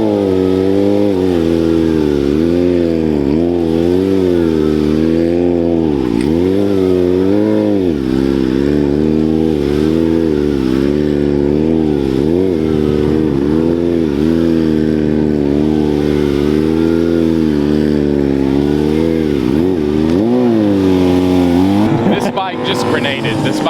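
A Harley-Davidson motorcycle fitted with an oversized 65-tooth rear sprocket, its transmission blown, runs with a loud, close engine note, rising and falling through repeated revs across the whole stretch, with a rider talking over it.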